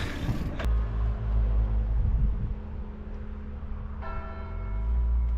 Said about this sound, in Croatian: Predivna melodija sa zvonika u igranama